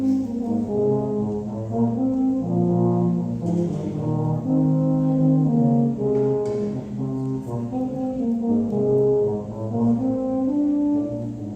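Euphoniums played together by a school band, warm low brass notes in the trombone range moving through a sustained melodic passage, steady and fairly loud with no talking.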